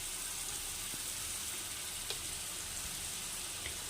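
Taro leaves with onion and turmeric fry in a pan, giving a soft, steady sizzle with a few faint clinks and pops, close by and with no voices.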